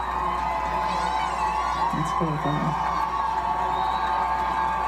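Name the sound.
crowd applause and cheering at race finish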